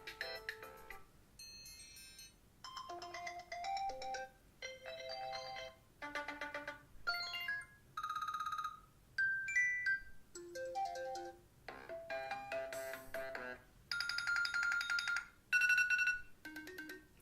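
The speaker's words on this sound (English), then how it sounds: "And this is of course ringtones just for iOS 7." iOS 7 ringtones played on an iPhone 4, a quick sequence of short electronic melodies and chimes, each cut off after a second or two, with brief gaps between them.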